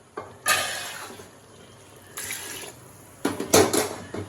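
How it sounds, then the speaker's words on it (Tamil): Water splashes in three separate pours into masala in a small metal tumbler while making curry, each a short, close burst of pouring and sloshing. "அதுக்கு தண்ணி சேர்த்துக்கணும்."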